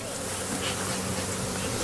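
Dense, continuous buzzing of honeybees swarming around beehives as colonies are readied for transport to California pollination, loud and close with no gaps.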